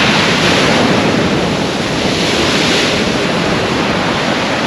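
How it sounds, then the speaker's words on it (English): Rough, heavy sea surf pounds the shore at Aldborough on the Holderness Coast, a loud continuous roar of crashing waves mixed with gusty wind buffeting the microphone. "That is what you call a rough sea."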